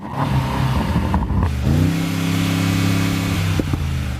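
An SUV engine rumbles steadily, then revs up into a sustained, rising drone that holds for a couple of seconds before dropping off; no voices.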